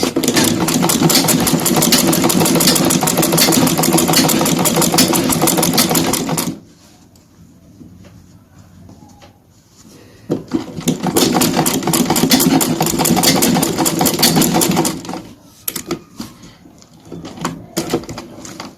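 A sewing machine stitches a welt pocket on a tailored suit jacket in loud, rapid, even bursts, running for several seconds, pausing, then running again, with a few brief stops and starts at the end.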